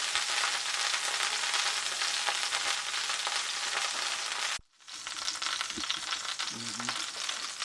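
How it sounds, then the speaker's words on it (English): Carrots and other vegetables sauté for a cornbread dressing filling, a constant soft sizzle that cuts out briefly midway and then resumes with a few faint knocks, with no talk. "So I'm sauteing off the veggies. I'm starting with the carrots."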